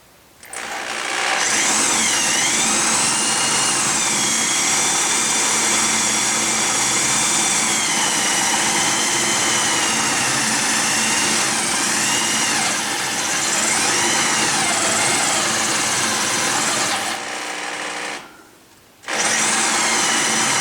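A high-pitched power tool grinds at the rivet heads on a factory-riveted brake rotor from a C3 Corvette Stingray, a steady, loud whine with small pitch dips as it bites, briefly cutting out near the end before resuming.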